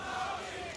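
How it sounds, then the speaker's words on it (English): A packed esports arena crowd at ESL One Katowice 2015 cheers for NAVI during a Counter-Strike quarterfinal, a steady, fairly faint roar of many voices. "NAVI getting the crowd behind them here."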